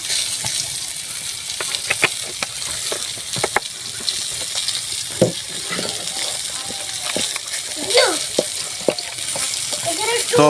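Coconut, turmeric, chili, onion and garlic being mixed by hand with soybean oil for cooking taro stolons in banana leaves, heard as steady wet squishing and stirring with scattered sharp clicks, fairly close, with no talk.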